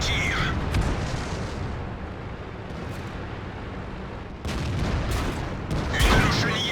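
Tank cannon shots in World of Tanks: a rumbling battle bed with a couple of sharp booming reports near the end, fairly loud, with no talk over them.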